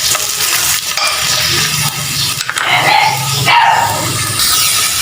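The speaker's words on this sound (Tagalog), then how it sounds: "Meron na tayong mantika dito. Ilagay na natin yung ginger." Ginger frying in hot cooking oil for chicken tinola, a steady broadband sizzle with stirring scrapes and clatter running throughout, fairly loud and close, with no talk.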